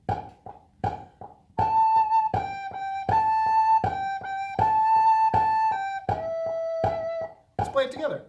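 A recorder plays a short nine-note melody at a classroom lesson, a few quick separate notes leading into longer sustained tones, clear and close, ending with a brief noisy tail.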